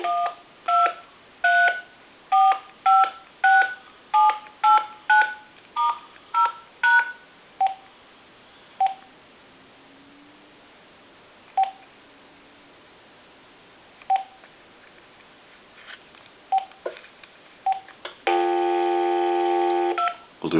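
Keypad tones from an AT&T SL82418 cordless telephone in speakerphone mode: a quick run of about a dozen distinct beeps, then sparse single presses, and finally a sustained steady tone near the end, all clear with no talking.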